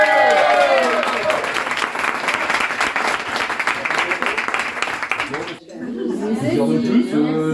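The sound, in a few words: audience applause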